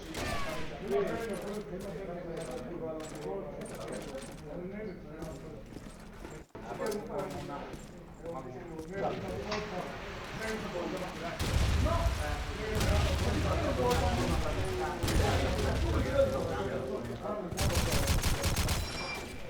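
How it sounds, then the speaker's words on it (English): Counter-Strike match at a LAN tournament, with rapid gunshots crackling over a busy game soundscape, bursts clustering toward the end, mixed with excited commentary voices throughout. "but Benko, that was one clean shot."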